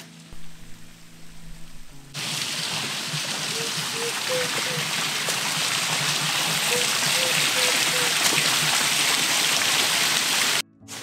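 Small waterfall on a stream along a forest trail in Istria, a steady close rushing wash of falling water that swells and holds loud, with faint voices underneath.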